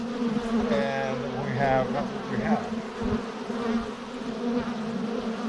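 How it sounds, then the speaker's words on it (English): Honey bees buzz around apple blossom in an April orchard, a close, steady drone with individual bees passing near, while someone talks briefly over it. "Oh, we got bees finding that apple blossom."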